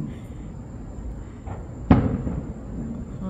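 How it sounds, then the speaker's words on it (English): A single firework bursts at a ballpark stadium during a night show, one sharp distant boom with a short rumbling tail over faint background noise. "Only child in this park watching fireworks."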